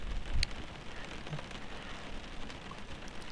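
Steady rain in the FSX flight simulator, a constant hiss of drops drumming on a surface, with a brief thump near the start.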